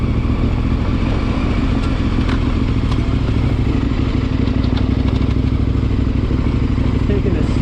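A dirt bike engine drones steadily on a technical trail, loud and close, with rattling clatter and occasional bumps over rough ground throughout.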